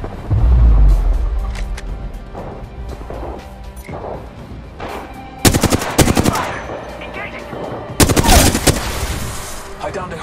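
Bursts of rapid automatic gunfire in the Apex Legends battle royale game, loud close volleys with crashing impacts, separated by quieter stretches with faint talk.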